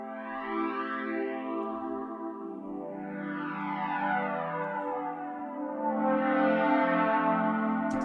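A smooth synth pad run through Valhalla reverb, EQ and a Shaper Box flanger, a sustained chord with slowly sweeping, swirling overtones, steady and moderately quiet throughout, alone.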